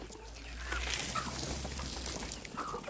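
Farmyard chickens cluck softly at feeding time, faint and close together with light background rustle.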